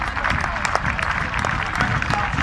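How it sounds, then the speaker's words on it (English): Applause from a university rugby squad and gathered supporters at a pitch-side match, a brief spell of scattered clapping and crowd noise with a commentator talking over it. "That's the applause of the rest of the squad and the supporters who've gathered here at Lady Bay."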